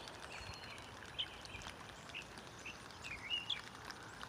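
Birds at a garden bird feeder give scattered chirps and short calls, faint and a little distant, over a soft steady background hiss that may be light rain.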